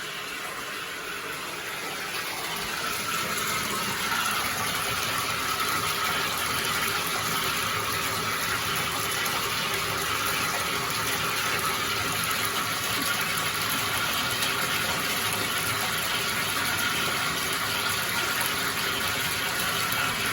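Water gushes from the tap into a bathtub being filled ahead of Hurricane Milton, a continuous loud rushing splash that swells slightly after the first couple of seconds and then holds steady.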